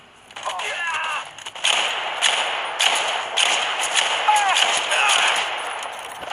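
Explosive-round gunfire from the video game Brothers in Arms 3 crackles in repeated bursts over a busy game soundscape, with a player talking over parts of it.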